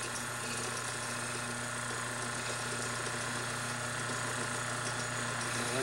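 A small 6-inch lathe runs steadily at low volume with a constant mechanical hum and faint rhythmic ticking, unchanging throughout.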